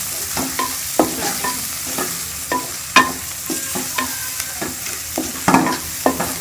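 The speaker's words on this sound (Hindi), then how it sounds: "इसको अच्छी तरह से भून लेंगे।" Spices frying in a pan for a potato and egg curry, with a steady sizzle and repeated scraping strokes of a spoon stirring at an irregular rhythm, close and fairly loud, no talking.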